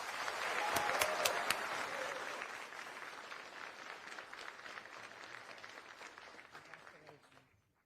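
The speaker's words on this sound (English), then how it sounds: "One more round of applause for our 3rd place team" Audience applause for a third-place team at an Army medic competition awards ceremony, a broad crowd clapping that swells early, then holds steady before fading out near the end.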